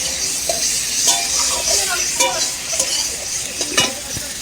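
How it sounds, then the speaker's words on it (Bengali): Potato and drumstick curry frying in a pan with water being added, heard as a close steady sizzle with repeated stirring scrapes and clinks across the whole stretch. "এবার আমি ঝোলের জলটা দিয়ে দেবো।"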